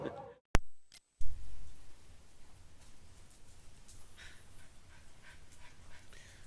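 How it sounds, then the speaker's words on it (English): Several dogs pant and whimper close by, outdoors at a home in the Cebu countryside, with a few short yips and a sharp burst early on. Scrabbling and breathing noises continue over soft outdoor ambience. "I gotta wade through this army of dogs that I have."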